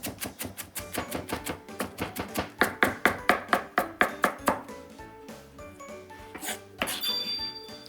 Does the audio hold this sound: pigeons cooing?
no